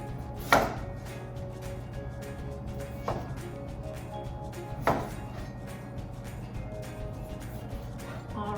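A knife chops oyster mushrooms on a board: three distinct, unevenly spaced thuds, close and moderately loud, over a steady low hum with no talking.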